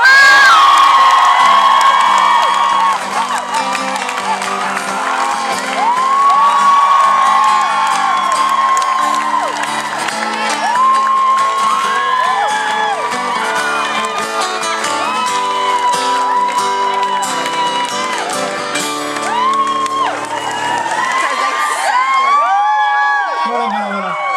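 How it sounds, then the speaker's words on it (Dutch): A studio audience at a Dutch television show cheers, shouts and whoops loudly with children's voices among them, a sustained roar with applause that carries on for a long stretch before tapering off at the end. "Geef ze een geweldig applaus, dames en heren"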